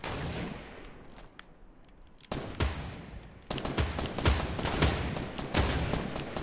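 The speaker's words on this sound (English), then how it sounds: "Who's shooting us?" Rapid automatic gunfire rattles in bursts in the Fortnite Battle Royale game, a fading volley followed by a sharp shot and then louder, sustained strings of shots that run to the end.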